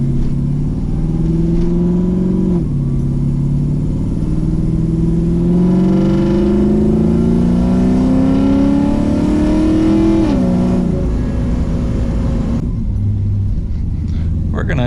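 An LS-swapped car pulls hard with a steady droning engine note that climbs in pitch, drops at each gear change, and climbs again, loud and continuous from inside the car.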